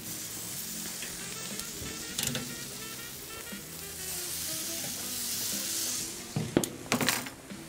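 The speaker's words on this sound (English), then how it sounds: "And we're grilling this, basically roasting it, grilling it at 180 degrees Celsius on the lid thermometer." Lamb racks sizzle steadily on a lidded grill at about 180 °C, a close continuous frying hiss with a few sharper crackles and clanks toward the end, no voices.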